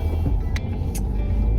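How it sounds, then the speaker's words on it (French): Interior cabin rumble of a car on the move, a steady low road drone with a few faint clicks and brief higher ticks over it, and no talking. "Et on est dans la voiture avec Baby Boy."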